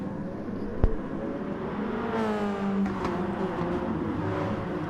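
GR1 prototype race cars, with a Porsche on pole, at the start of a 60-minute endurance race in a video game: a steady mid-loud engine roar that rises in pitch, with one sharp knock near the beginning and no voices.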